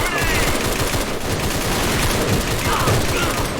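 Rapid gunfire in the online shooter AVA rattles out in quick, loud bursts that run almost without pause, and game effects sit beneath the shots.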